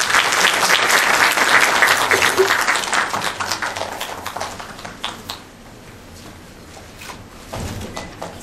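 Applause at a hanok design competition award ceremony, loud dense clapping from a seated audience that gradually thins and fades toward the end.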